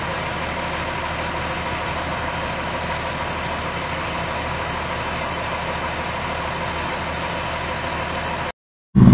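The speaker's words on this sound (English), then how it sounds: "Hazmat truck." A hazmat truck's engine idles in a steady, broadband rumble and hiss, close and unchanging for about eight seconds before cutting off briefly, with no talk.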